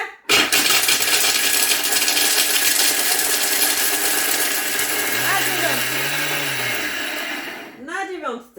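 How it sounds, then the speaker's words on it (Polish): Thermomix TM6 grinding chocolate at speed 8, a loud roaring whir with rattling pieces that runs for about eight seconds, dropping in pitch as it slows and stops, then some clatter. "Więc zmielę sobie czekoladę, żeby posypać na wierzchu."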